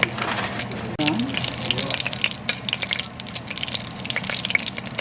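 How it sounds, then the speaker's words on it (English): Fenugreek (methi) seeds fry on medium heat, a steady hissing sizzle like running water that fills the whole stretch, loud and close, with no talk over it. "And so we're frying on medium heat"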